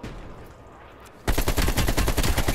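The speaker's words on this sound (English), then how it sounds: "Ooh, I shot that dude up." Gunfire from Call of Duty: Black Ops Cold War erupts suddenly after a quieter stretch of game ambience, a loud, rapid automatic burst of close shots continuing to the end.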